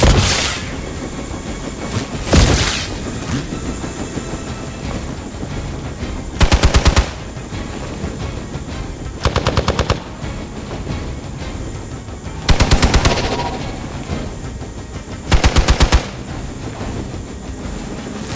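Gunfire in the video game Marvel's Midnight Suns: loud bursts of rapid automatic shots at uneven intervals, with a single sharp shot early on, over a steady rumbling game background.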